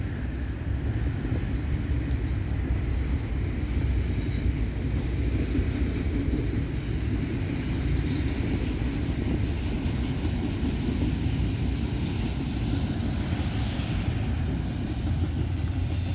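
A long Norfolk Southern freight train rumbles past on the line at Berea, Ohio, a continuous heavy rolling roar with steady wheel noise and no talk, holding level throughout.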